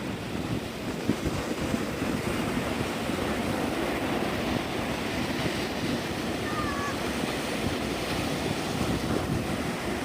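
Ocean surf breaks on a beach under double red flag conditions, a continuous roaring wash mixed with gusty wind buffeting the microphone, steady throughout.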